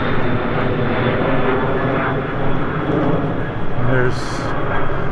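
A fixed-wing airplane passes overhead close to an airport, its engine a steady, loud broadband roar through the whole stretch over an old residential neighborhood, with someone talking over it.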